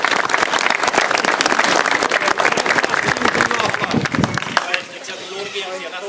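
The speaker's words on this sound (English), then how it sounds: "I think a round of applause for Steve because" A crowd at the Beamish Cup Final 2017, a league cup final, gives a loud, sustained round of applause, dense clapping that fades somewhat toward the end.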